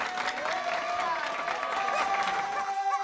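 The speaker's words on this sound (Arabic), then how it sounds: "تصفيق لصاحبي" A group applauds with steady, continuous clapping for about three seconds in a rural setting, with voices mixed into the clapping.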